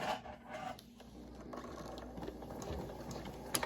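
A sewing machine runs quietly as it stitches fabric for a locker-organizer pocket, with the folded edge guided along the presser foot; soft mechanical whirring with small ticks and clicks, close by.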